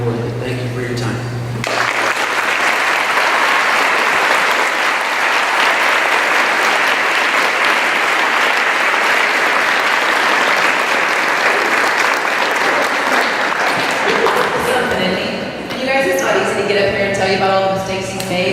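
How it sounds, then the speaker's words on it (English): Audience at a school assembly breaks into loud sustained applause and cheering that fills the room for several seconds, then fades as a voice resumes speaking over the last of the clapping. "Let's give him another big round of applause."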